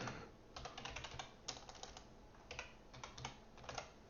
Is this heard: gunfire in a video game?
no